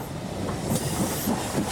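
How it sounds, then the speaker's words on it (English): A London train rolls past with a steady rumbling roar and faint rhythmic clatter, a brief hiss rising now and then, continuous throughout at moderate loudness with no talk. "London train."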